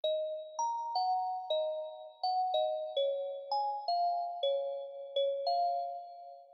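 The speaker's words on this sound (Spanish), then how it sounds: "Y las campanillas." Bell-like chime notes for a turreo-style beat ring out one after another in a steady rhythm, each clear tone struck and left to decay, playing alone with no voices.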